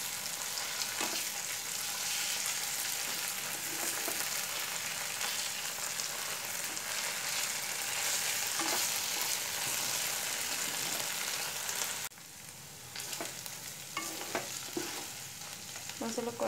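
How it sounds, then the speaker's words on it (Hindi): Ginger garlic paste and green chilli fry in a pan for a vegetable keema, giving a dense steady sizzle with stirring scrapes that briefly softens near the end before picking up again; close, continuous, no voices. "अब जो अदरक लहसुन का पेस्ट लिया वो ऐड कर देती हूँ और ग्रीन चिली वो भी अच्छी तरह से पहले फ्राई कर लेती हूँ।"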